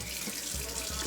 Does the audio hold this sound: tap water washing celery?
yes